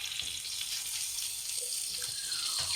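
An egg frying in a pan for a Ramadan pre-dawn meal, with a steady close hiss and sizzle and a few faint pops and clinks over it.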